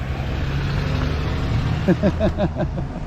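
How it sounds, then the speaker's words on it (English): A Montreal Fire Department service truck with a big Cummins diesel engine rumbles nearby on Queen Mary Boulevard, a steady low idling drone with a brief rhythmic rattling pulse toward the end, heard on a city street. "with that big Cummins diesel rattling away there"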